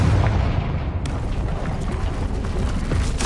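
A Confringo blasting spell from Hogwarts Legacy erupts in a loud, continuous burst of booming blasts and crackling rumble, with no talk over it.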